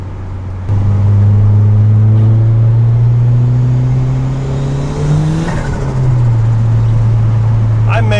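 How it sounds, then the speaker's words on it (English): A turbocharged Honda Civic, running raised boost with no tune, accelerates hard with its tyres spinning on a wet road. The engine drones loud and steady, pitch climbing, dipping, then climbing again, while a voice talks over it. "I'm getting absolutely zero traction. I mean, it's just instantly spinning."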